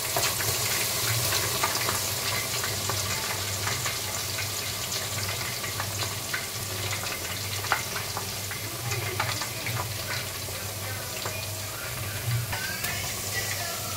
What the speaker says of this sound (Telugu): అల్లం పేస్ట్ అనేది వేస్తున్నాను అన్నమాట దాంట్లోకి.